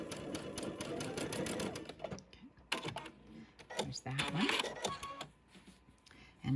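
Quilt sections for a Tula Pink butterfly quilt run through a home sewing machine in short rapid bursts of clattering stitches, near and fairly quiet, with brief stops between runs.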